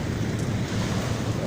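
Sea waves wash onto a sandy beach in a steady, close roar, blended with wind buffeting the microphone, with no voices over it.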